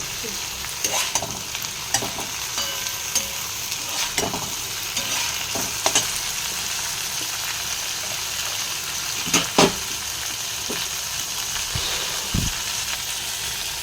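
Tomatoes and green chillies frying in a pan, a continuous sizzle with scattered scrapes and clinks of stirring throughout, close by and without talk.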